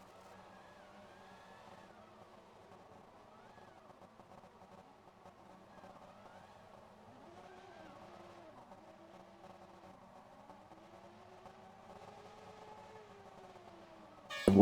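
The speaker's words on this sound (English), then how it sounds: "The revs come up. The lights come on. And off we go in Silverstone." Simulated race cars in rFactor 2 rev on the grid at Silverstone before the start, a faint layered engine whine rising and falling in pitch, with a sharp louder burst right at the end.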